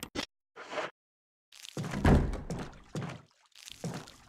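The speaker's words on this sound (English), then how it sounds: "Something just closed the door." In the Resident Evil HD video game, a door closes somewhere nearby with a few dull thunks and knocks, short separate impacts with a heavier thud in the middle, set against quiet game ambience.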